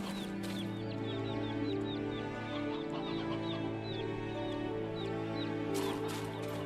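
Repeated clucks from a chicken in the video game Black Desert come in an even series over a dense, sustained musical background, with brief clicks near the start and end.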